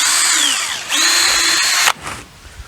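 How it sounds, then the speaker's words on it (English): Power drill drives a screw through wood and into an aluminum flange on a storm-window rabbit hutch door, two loud whirring bursts with rising and falling pitch, then a short tail of handling noise. "we're just going to drive a screw through"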